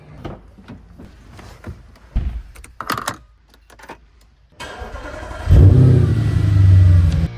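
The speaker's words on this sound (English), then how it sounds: "I could give the engine a little rev" An Audi S5 left sitting for three years cranks over after some clicks and clunks, catches loudly and close, then revs up and settles into a rough idle.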